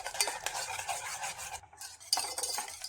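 Eggs, milk powder and sugar stirred together in a bowl, a steady close scraping and swishing whisk rhythm with a brief pause before it resumes.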